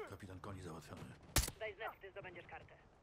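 A single sharp gunshot from the video game Call of Duty: Modern Warfare cracks out amid someone talking, the voice continuing before and after the brief burst.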